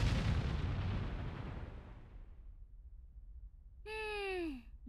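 A bomb goes off in the video game Atelier Lulua with a deep, booming explosion that rumbles and fades over a couple of seconds, followed by a short sighing voice.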